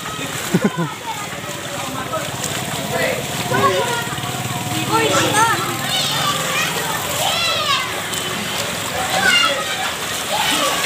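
Flood water splashes and sloshes continuously through a village in Rejosari, Karangawen, Demak after three hours of heavy rain, the water reaching knee height, with children playing and talking loudly over it.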